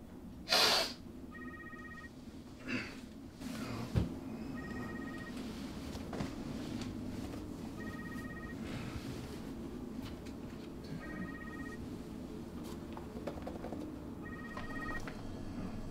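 Telephone ringing in a film scene before a phone call, heard as short repeated electronic ring bursts spaced about every two seconds over a low background hum, with a couple of brief louder noises near the start.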